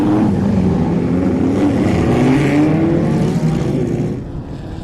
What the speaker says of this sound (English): As we get into the race action here, of course, and the cars on track for their warm-up